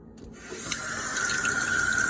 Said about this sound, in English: Let me get some cold water.